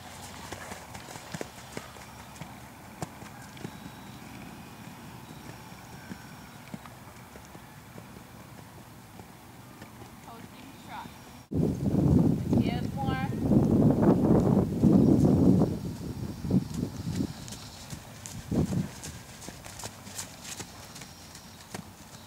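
Horse moving at a canter in a riding lesson, its steady rhythmic hoofbeats rising fairly loud and close after a quieter stretch, with a voice talking over parts of it.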